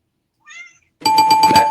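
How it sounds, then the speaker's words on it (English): A single cat meows briefly and softly, then a loud, sustained bell-like tone with rhythmic pulsing music takes over. "That's a cat."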